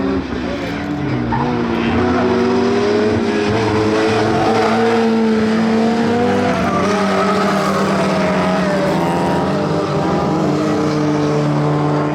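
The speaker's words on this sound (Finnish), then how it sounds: "Kiihdytellään siellä viimeistä kertaa tässä lähdössä kohti ruutulippua." Race cars in a Finnish championship race roar together on the final lap toward the chequered flag, a loud sustained multi-engine drone with shifting pitches and faint tyre squeal throughout.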